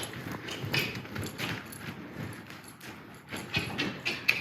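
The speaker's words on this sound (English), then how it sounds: "I can surge my horse forward." A horse walks forward during showmanship handling, its hooves giving a run of soft uneven clip-clop steps at close range, with no voices.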